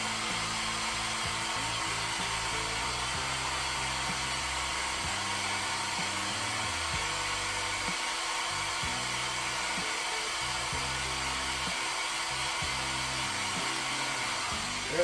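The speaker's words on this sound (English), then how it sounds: "This is just my hairdryer on cool here." A hair dryer running on its cool setting gives a steady, even whoosh of blowing air. It holds close and constant for fifteen seconds with a faint rumble underneath.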